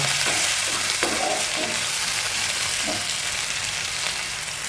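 Onions and green chillies sizzle and get stirred in oil previously used to fry fish, a steady close frying hiss with a few spoon scrapes and no talking.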